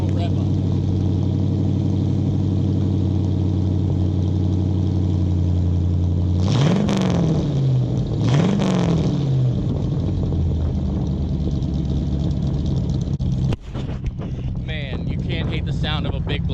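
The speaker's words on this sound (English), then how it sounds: "Let's hear a little rev up." The big-block 425 cubic inch V8 of a 1966 Oldsmobile Toronado idles with a deep, loud rumble, then rises into two sharp revs that fall back to idle, with wind buffeting the microphone.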